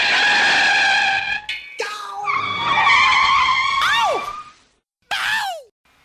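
An IndyCar race car loses grip in the marbles going into turn 2 at Texas Motor Speedway during the 2023 PPG 375 and crashes, heard as loud, high-pitched tyre squeals in several bursts with brief gaps and a final short screech.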